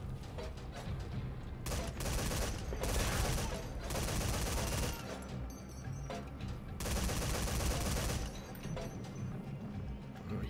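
Machine gun fire in Metal Gear Solid 5: long, dense automatic bursts rattle loudly and nearly continuously, separated by brief lulls, with a heavy close sound and faint talk underneath.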